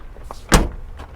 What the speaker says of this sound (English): Does this door open? Yeah, this door opens.